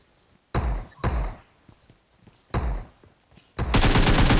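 Shotgun blasts in the mobile shooter PUBG Mobile, three heavy booming shots spaced about a second or more apart, followed by a dense burst of rapid fire, with faint voices under the shots.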